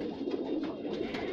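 Pakistani-breed male pigeons kept in a hobby loft make soft, low coos that run on continuously and sound close but fairly quiet.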